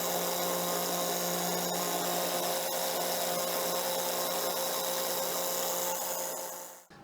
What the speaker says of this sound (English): So I'm gonna go get the pump again and suck some more out.